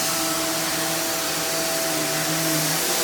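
A Hoover React Professional Pet Plus UH73220 upright vacuum runs on carpet with a loud steady motor whine and broad airflow hiss, no voices.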